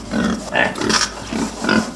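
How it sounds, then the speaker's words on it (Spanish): Pig grunting close up: a series of about five short, rough, nasal grunts in an uneven rhythm over two seconds, loud and alone without any talking. "Sí, es un cerdo."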